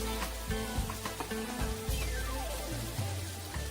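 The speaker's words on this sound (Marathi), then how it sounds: "आता कांदा आपल्याला व्यवस्थित लाल होईपर्यंत परतून घ्यायचा आहे." Onion sautés in a pan for a Maharashtrian drumstick-leaf vegetable dish, giving a steady sizzle with scraping stirs and clinks of a utensil against the pan, close and moderately loud.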